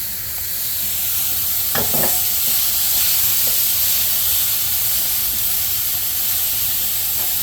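Partly frozen elk meat fries in a hot pan at reduced heat for chili, giving a loud, continuous sizzle and hiss with a few scraping stirs near the start and no talking.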